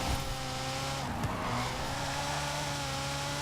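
A Lego Ferrari F40 drives in Forza Horizon 4. Its engine drones steadily at close range, with a brief tire squeal partway through and no talking.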